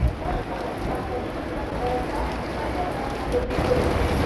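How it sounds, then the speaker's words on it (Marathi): Dense, steady heavy rainfall hissing across the whole clip at a small Hanuman temple, loud and close, with a faint voice now and then beneath it. "खूप म्हणजे खूप बाहेर पाऊस येतोय"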